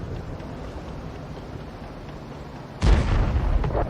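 A tank gun fires a shell in a World of Tanks-style armored combat game, one sudden loud boom cutting in late over a steady low engine rumble and lingering as a rolling blast.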